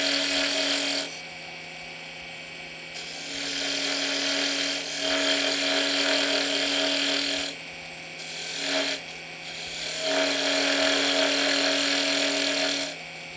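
Skew chisel cutting straight into a Christmas tree ornament spinning on a wood lathe, a steady whining scrape in bursts of several seconds separated by brief pauses, with the lathe's motor hum running underneath throughout.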